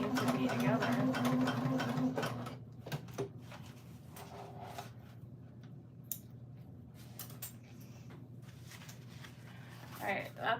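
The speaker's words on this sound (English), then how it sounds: "as I'm sewing this one" A sewing machine stitches a fabric pocket in a steady whir for about two seconds, then stops, leaving soft handling clicks while a person talks.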